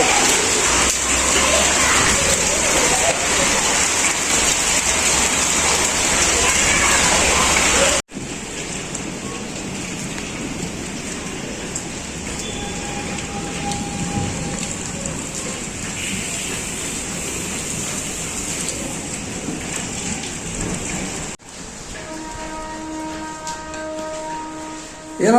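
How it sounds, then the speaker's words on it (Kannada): Rain pours steadily outside in a dense, constant hiss that drops suddenly to a lighter patter partway through, with a brief tonal sound near the end. "ಮಳೆ ಬರ್ತಿದ್ದೆ ಹೊರಗಡೆ"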